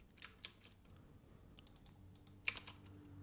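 Quiet keystrokes on a computer keyboard typing a file name, a few scattered clicks followed by a short quick cluster near the end, close and soft.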